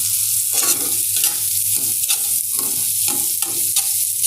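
Onion and green chili fry loudly in an oily pan alongside pointed gourd, a constant bright sizzle broken by rhythmic spatula scrapes about every half second, close and without talk.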